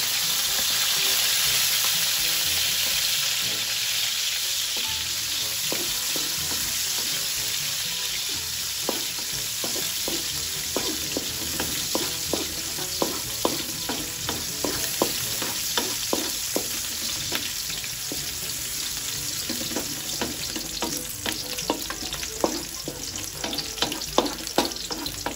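Onions sauté in a hot pan for chami noodles, a loud continuous sizzle with frequent crisp spatula scrapes and stirring clatter that grow busier toward the end; no talking.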